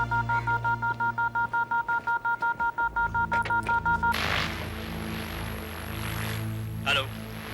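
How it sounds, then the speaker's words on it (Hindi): A police wireless radio signal in a TV crime drama begins with a steady run of rapid beeping tones. It then switches to a continuous high electronic whine over hiss, with no voices. "सर वायरलेस में मैसेज है, देखो।"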